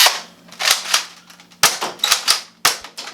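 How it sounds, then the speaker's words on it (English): A modded XShot Vigilante dart blaster loaded with two half darts per chamber, fired in a quick series of sharp, loud snapping cracks, each followed by brief clattering, close by with no talking. "we are able to load 2 half darts into each chamber, which gives an actual shotgun effect"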